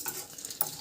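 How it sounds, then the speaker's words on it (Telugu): Tempering spices crackle and fry in hot oil for a semiya curd rice prasadam, a quiet close-up hiss with light stirring. "ముందుగా ఆయిల్ వేసి వేడెక్కాక తాలింపు దినుసులన్నీ వేద్దాం."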